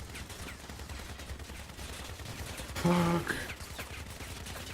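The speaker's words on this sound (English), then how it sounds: "These fucking spider leg machine gunners." Rapid gunfire from a group of spider-legged machine gunner enemies in a video game, a dense, continuous crackle with a louder burst near the middle, and a brief shouted exclamation over it.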